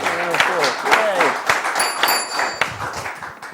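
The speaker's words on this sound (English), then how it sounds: "Give him a round of applause." A studio audience at a quiz show claps in a brief burst of applause, with a host talking over the start and a few cheers mixed in.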